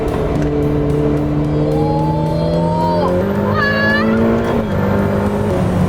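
A car's engine accelerates hard on a winding road at about 3000 to 4000 rpm, a loud, close, continuous revving drone climbing and dropping in pitch through the gears, with brief voices inside the cabin.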